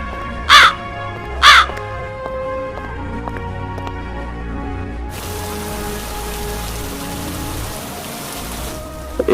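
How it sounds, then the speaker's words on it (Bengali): Steady, continuous rain in a cartoon folk tale, a broad even hiss that settles in after two loud, close crow caws and runs unbroken to the end without any voices. "এরপর টানা 2 দিন অনবরত বৃষ্টি হতেই থাকে।"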